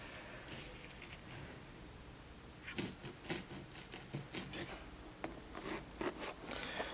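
A blade cuts through gun case foam in a Plano tactical gun case, making scratchy, rasping strokes that start after a quiet stretch and repeat in quick, uneven bursts close by.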